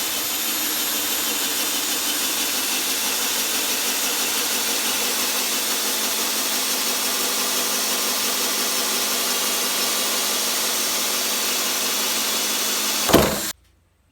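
A power drill whirs steadily and loudly for about thirteen seconds while drilling a hole in a barrel, then cuts out with a short clunk.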